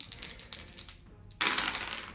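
Dice rolled off the board during a Warhammer 40k Kill Team game: a quick burst of clattering plastic dice tumbling and rattling close by, a brief pause, then a second sharper clatter as they settle.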